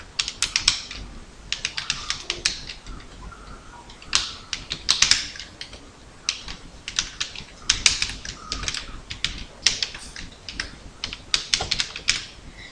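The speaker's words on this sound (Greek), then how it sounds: "Στην πρώτη γραμμή του πίνακα θα πληκτρολογήσουμε τις μέρες της εβδομάδας." Rapid, uneven typing on a computer keyboard while entering the days of the week into a calendar table, with clustered key clicks and short pauses throughout, close and clear with no talking.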